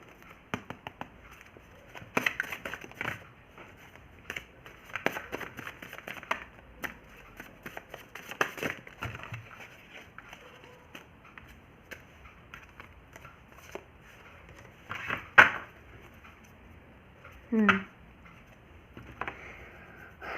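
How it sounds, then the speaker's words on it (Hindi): Tarot cards drawn and shuffled by hand, giving scattered soft snaps, flicks and rustles at close range, with a few sharper card slaps standing out, and no talk over them. "और एक कार्ड मैं यहाँ से निकालती हूँ।"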